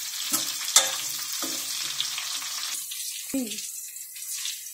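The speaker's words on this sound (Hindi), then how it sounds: "करी को हम सबसे पहले फ्राई करेंगे पाँच से सात मिनट तक" Raw mango curry frying and being stirred in a pan, with a steady sizzle under scraping strokes near the start and a brief clink later, fairly close and moderately loud.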